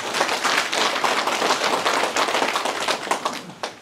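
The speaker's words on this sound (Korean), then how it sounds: "그럼 큰 박수 한번 쳐주세요." An audience at a county government briefing for elderly community members claps steadily in dense, even applause lasting several seconds, filling the room without talk.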